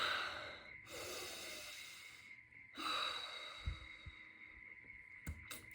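A person taking a breath, heard as long, close airy inhales and exhales against a quiet room, followed by a few soft thumps.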